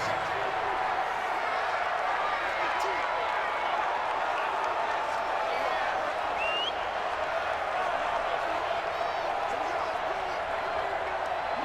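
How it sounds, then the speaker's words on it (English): A dense, steady roar from the crowd inside the Dome at an NFL game between the Indianapolis Colts and New Orleans Saints, holding at an even level throughout with commentary running over it. "The crowd here in the Dome making things difficult"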